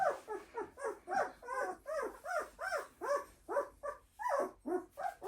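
A young bird dog puppy left alone whimpers and whines in a rapid series of about a dozen rising, plaintive cries, close and clear in a quiet space.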